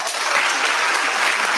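An audience claps in a brief, steady burst of applause, fairly loud and continuous, with no voices standing out above it.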